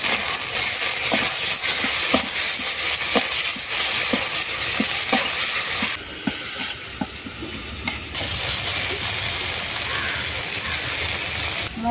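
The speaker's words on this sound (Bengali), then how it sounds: "মশলা কষানো হয়ে গেছে, মশলা থেকে তেল ছেড়ে গেছে।" A paste of ground ginger, cumin and onion, seasoned with salt, chilli and turmeric, fries in oil for a pabda fish curry. It hisses steadily while a spatula scrapes the pan in regular rhythmic strokes, with a brief quieter stretch midway.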